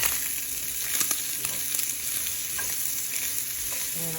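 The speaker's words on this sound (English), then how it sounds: "I'm gonna go ahead and throw in my onions and mushrooms." Onions and mushrooms sizzle in hot fat in a pan, a steady close crackle with a few sharper clicks of stirring.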